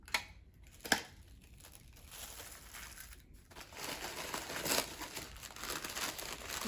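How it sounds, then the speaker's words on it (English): Plastic wrapper crinkling steadily as a bead craft kit is unwrapped during an unboxing, close, continuous rustling with a sharp crackle near the start and busier crinkling later on. "Sorry, I'm like talking while I'm crinkling, so I'll unwrap it then talk."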